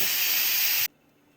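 A pressure cooker venting steam in a kitchen while cooking chicken salsa rice gives a loud, steady hiss that cuts off abruptly, leaving near silence.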